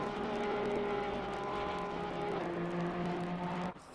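A Porsche GT3 race car engine in a racing video game at Oulton Park gives a loud, steady, high-revving drone with a slight pitch shift midway, cutting off abruptly near the end.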